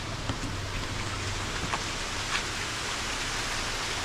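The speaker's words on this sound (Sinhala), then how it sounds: "දැන් වහිනවා." Steady, hissing rain fills the scene, a dense even wash of drops with no pauses and only faint scattered patters on top.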